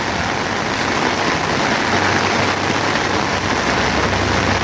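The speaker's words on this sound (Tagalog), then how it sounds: "Grabe ang ulan." Heavy rain pours down steadily outdoors, a loud, dense, unbroken hiss with no talking over it.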